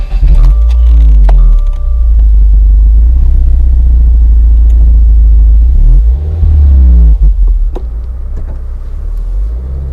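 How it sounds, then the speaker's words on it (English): A Subaru WRX with a boxer engine drives on a back road, its engine rumbling loud and close from inside the car, climbing through two rising revs as it accelerates and shifts. "now it's time to take the WRX out on the road"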